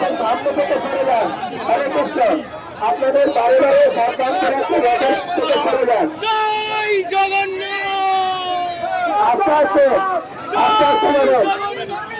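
Dense crowd noise at a Rath Yatra festival procession at the Mecheda ISKCON temple: constant loud babble and shouting voices, with chanting or singing voices rising clearly over the throng in the middle and near the end.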